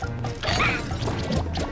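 Objects get smashed in a SpongeBob SquarePants video game, producing a cluster of crunching whacks and crashes close up, layered over continuous game noise.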